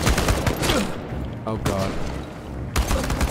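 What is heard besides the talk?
rifle gunfire in the video game Chernobylite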